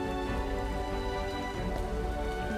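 Steady rain in the Starbound video game, a dense, even hiss of falling drops that holds constantly throughout with no speech.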